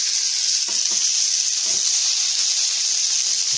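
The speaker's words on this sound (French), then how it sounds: "Voilà, ça rentre en ébullition, là ça commence" A pot of water with potatoes and carrots starting to boil, giving a steady, close bubbling hiss with a few soft knocks and clinks mixed in, no talking.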